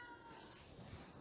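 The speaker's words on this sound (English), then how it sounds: "So if you hear any meowing, that's our cat." A house cat meows faintly in a quiet indoor room, the brief calls low and half-buried in steady background noise, with no talking.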